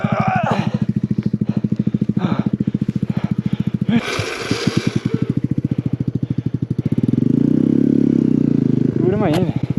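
A motorcycle ridden off-road through a Texas snowstorm chugs loudly and close throughout, its engine pulsing steadily, revving up around the middle and swelling again near the end.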